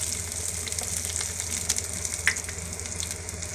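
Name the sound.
onion sautéing in hot oil for Bombay Maggi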